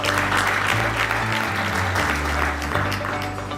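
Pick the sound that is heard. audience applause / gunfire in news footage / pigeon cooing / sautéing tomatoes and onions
audience applause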